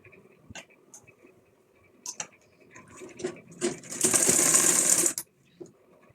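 Sewing machine stitching the open side of a folded cloth bag: scattered clicks and handling noises, then a steady loud whirring run of stitching for about a second before it stops.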